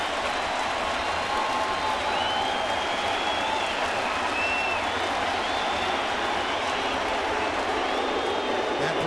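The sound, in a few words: baseball stadium crowd applauding and cheering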